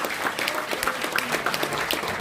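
Applause from an audience at an outdoor political rally in South Korea, a dense, steady patter of many hands clapping at close to moderate distance, sustained throughout without speech.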